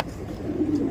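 A Madrasi pigeon gives one brief, soft, low coo close by.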